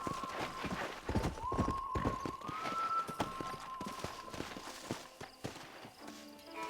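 A horse's hooves clip-clopping steadily at a walk in the video game Red Dead Redemption, close and moderately loud, with a brief tonal game sound partway through and a faint voice.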